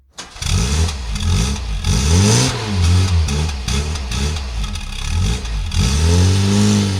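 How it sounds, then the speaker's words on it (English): A homemade plane engine revs up and down repeatedly like a car, loud and close, with rising and falling pitch sweeps. "Why does the plane sound like a car?"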